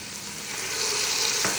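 Chicken sizzles in a pan with softened onion, a steady close hiss of frying that swells slightly over a brief moment, with a faint scrape near the end.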